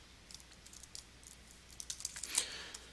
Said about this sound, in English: I have to type correctly